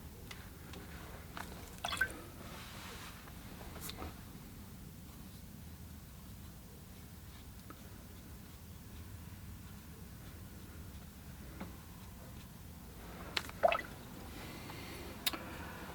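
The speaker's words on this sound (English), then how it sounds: "okay, I'm going to do some splashing here." Watercolor paint is splashed and dripped onto paper in sparse, faint, irregular little taps and spatters over a quiet hiss, with a few sharper drips standing out.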